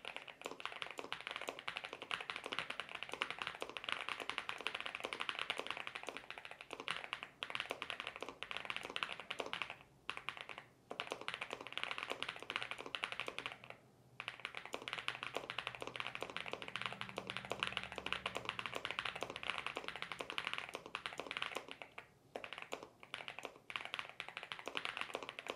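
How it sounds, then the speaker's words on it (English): Fast, steady typing on a NuPhy Gem80 mechanical keyboard clatters continuously, with brief pauses between bursts of keystrokes. "here comes the quick typing test here"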